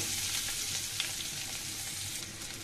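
Chopped onion and raw garlic frying in a pan for a long bean and potato curry, giving a dense, even sizzle that runs unbroken and fairly close throughout, with no talking.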